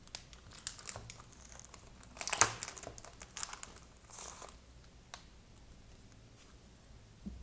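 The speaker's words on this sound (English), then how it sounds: "these envelopes. I think they are really cute because they are metallic envelopes" Metallic envelopes are handled up close, giving soft, sporadic crinkles and rustles with one louder crackling burst, fairly faint overall in a quiet room.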